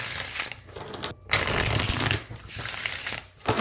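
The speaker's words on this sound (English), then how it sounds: "let's give it a shuffle" A matte cardstock tarot deck with silver gilding is riffled and shuffled up close, giving rapid papery flutters in three bursts separated by brief pauses.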